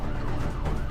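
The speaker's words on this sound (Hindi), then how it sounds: "यहां हर तरफ एम्बुलेंस दिख रही है" An ambulance siren wails steadily at the Nigambodh cremation ground in Delhi, loud and continuous through a brief stretch with no talk.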